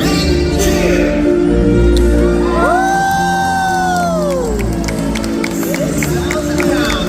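A large crowd in the SeaWorld Orlando stadium cheers and whoops for the orca Makaio's bow jump, loud and sustained. Shouts and music mix in.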